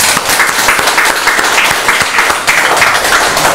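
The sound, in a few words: congregation applause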